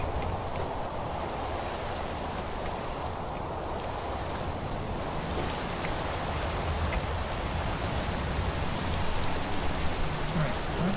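Rain in the video game TerraFirmaCraft (HardRock TFC4) makes a continuous broad hiss of falling water, even and unbroken throughout with no voices over it.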